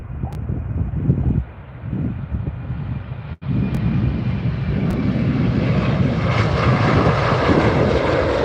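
A WestJet airliner on the runway at Calgary Airport, runway 35R, builds into a loud, rising engine roar with wind buffeting the microphone, swelling steadily louder as it draws closer, with no talk over it.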